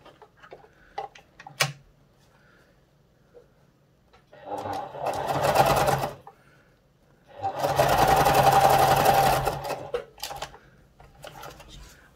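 A sewing machine stitches binding onto a hat brim edge, running in two steady whirring bursts with a pause between, surrounded by soft handling clicks and taps.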